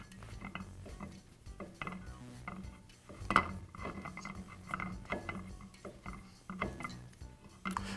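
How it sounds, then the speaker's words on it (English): Metallic ratcheting clicks and scrapes come from a blind bearing puller being turned to expand inside the wheel bearing of a Jet band saw. The irregular, close clicks are fairly quiet, with a sharper clack near the middle. "I insert the shaft of the bearing puller through the inner race and turn this upper shaft"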